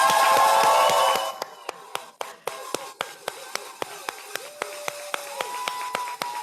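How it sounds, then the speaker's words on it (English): An audience applauds at a foundation fundraising party: a dense burst of clapping that quickly thins into a few sharp, scattered claps repeating at a steady pace. "Let's give a round of applause."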